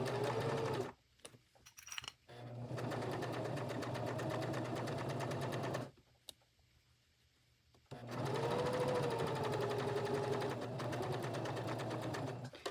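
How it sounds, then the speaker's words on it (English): A sewing machine runs a straight stitch around a US flag appliqué, with two long steady bursts of motor whir near the mic, separated by short pauses and a brief stop-start. "I'm just using, again, a straight stitch"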